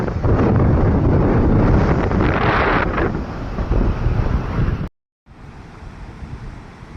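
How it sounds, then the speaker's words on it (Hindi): Strong wind in Harsil valley buffets the microphone in a loud, steady roar for several seconds, breaking off briefly before a quieter gusting rush resumes. "बहुत तेज़ हवा चल रही है, शायद कैमरे में आवाज़ आ भी रही होगी।"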